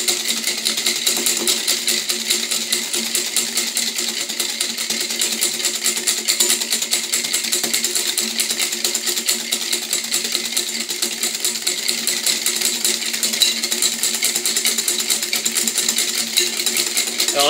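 A steady, loud, fast mechanical whir runs continuously, consistent with an electric mixer whisking egg yolks with sugar until pale for a caramel mousse, alone without talk.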